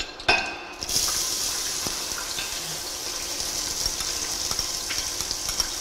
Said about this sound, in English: We wait for our onions to brown a bit.